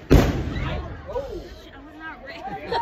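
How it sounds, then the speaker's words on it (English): A single loud cannon boom bursts out at the start at a Renaissance fair, followed by crowd chatter and voices talking over the fading echo. "I saw the cannon go over there."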